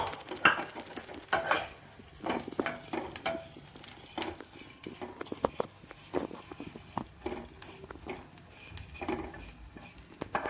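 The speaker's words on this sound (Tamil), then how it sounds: "1 கப் சேமியா எடுத்துருக்கோம். அதையும் போட்டு வறுக்கிறோம்." Vermicelli roasts in a pan as a spoon stirs it, making soft, irregular scraping and rustling strokes over a light sizzle, fairly quiet and close.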